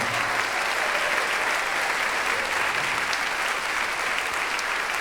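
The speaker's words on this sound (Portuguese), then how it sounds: "eu gostaria que vocês pudessem receber carinhosamente, com uma salva de palmas a Jesus Cristo, a vida da nossa amada doutora Neuza Itioca" Steady, dense applause from a large audience at a church gathering, continuous and even in loudness throughout without breaks.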